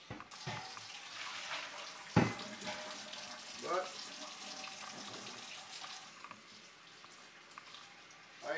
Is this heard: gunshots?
no